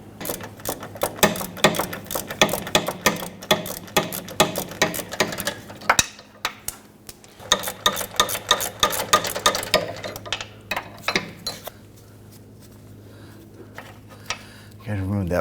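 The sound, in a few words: ratchet loosening Kia Sorento sway bar bushing bolts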